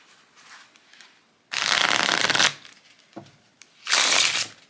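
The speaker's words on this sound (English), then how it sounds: "let's do a little riffle." A tarot deck of linen cardstock is riffle shuffled up close, giving two loud, dense bursts of fluttering card clatter separated by quieter handling, squaring and tapping sounds.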